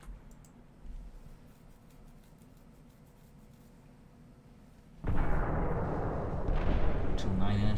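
Warship guns firing in the naval battle game Ultimate Admiral Dreadnoughts: a few seconds of low rumbling background, then a sudden heavy, sustained roar of cannon fire that keeps building to the end.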